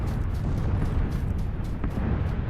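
Steady, dense rumbling explosions from a red zone bombardment in PlayerUnknown's Battlegrounds roll on continuously without a pause, a heavy low boom wash that stays loud throughout with no voices.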